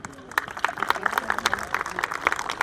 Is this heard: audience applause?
yes